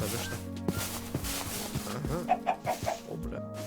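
A chicken in the Minecraft video game clucks in a quick series of short, fairly close calls near the end, with game ambience and a little talk underneath.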